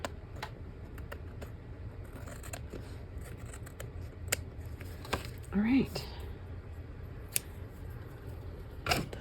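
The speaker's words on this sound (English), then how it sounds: "Those are not my best scissors either." Scissors snip through paper at a craft table: a quick burst of cutting near the middle, among faint ticks and light handling taps in a quiet room, with a brief spoken remark.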